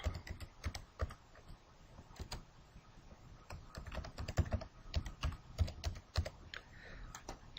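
Irregular bursts of clicking keys on a computer keyboard, close and fairly quiet, with brief pauses between runs of typing.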